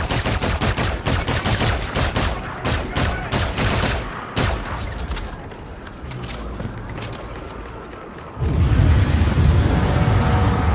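Dense automatic gunfire rattles from the Call of Duty Infinite Warfare firefight in rapid, overlapping bursts with explosive thuds, building into a louder, continuous barrage near the end.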